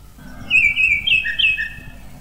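A songbird in a French children's farm story sings bright, warbling whistled phrases at close range, a string of rising and falling trills lasting about two seconds over a faint background hum, with no talking.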